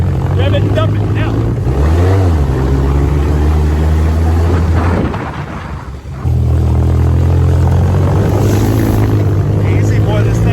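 A manual-transmission vehicle's engine revs loudly, drops away briefly around the clutch dump, then surges back up in a sustained, close drone.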